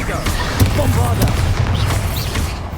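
Bombarda blast spells in the Hogwarts Legacy video game go off as repeated low booming explosions, dense and loud, with a game voice talking over the din.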